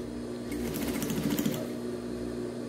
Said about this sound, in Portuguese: encaixa bem certinho aqui dentro e passa a costurinha na beiradinha